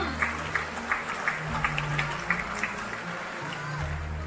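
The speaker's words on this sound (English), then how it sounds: "A huge round of applause." At a school air show, a crowd of students and guests claps for the principal and director. Rhythmic claps open the applause, which then settles into a soft, steady patter heard from a distance.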